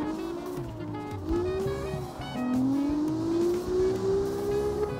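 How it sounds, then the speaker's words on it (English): A turbo car engine in the racing video game CarX Street revs and climbs in pitch, with a rising whine and tire noise, loud and continuous throughout. "But I would like to hear this car first though."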